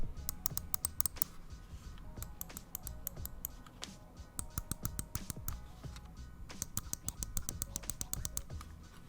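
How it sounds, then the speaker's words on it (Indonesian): Rapid crisp clicks from the switches of a Razer Viper Ultimate mouse, pressed in quick irregular bursts and short runs with brief pauses between, close and fairly quiet with no talking. "itu untuk suara switch dari mouse switch dari Razer Viper Ultimate"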